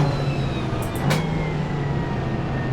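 A race car braking for a corner on the 1967 Nordschleife in a VR racing game, a steady, loud engine drone with a few brief high squeaks midway and no talking.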